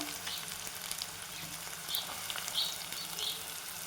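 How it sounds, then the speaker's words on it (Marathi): Onions sizzle in hot oil seasoned with mustard seeds and cumin, a close, steady frying hiss with faint crackles and no talking. "तेल आहे ना गरम झालेलं आहे आणि हे कांदे टाकून घेते छान खरपूस भाजून घेते कांदा"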